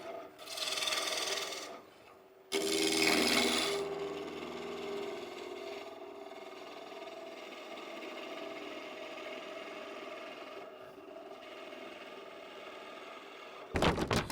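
A wood lathe spins at 1200 RPM, turning legs for a live-edge Windsor-style bench. Two loud rasping cuts come early, then a quieter steady whir, and a brief sharp burst of cutting at the end.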